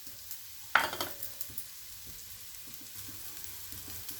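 Cashews and bitter gourd pieces fry in a pan, a soft sizzle marked by a sharp metallic clang of a spatula followed by quieter scraping stirs, with no talk.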